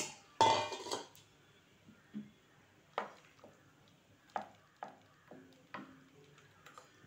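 A spoon stirs ground masala into simmering mutton suthu kozhuppu curry in a metal pot, making a burst of scraping followed by sharp, separate clinks and knocks against the pot at an irregular pace, close by with no talk.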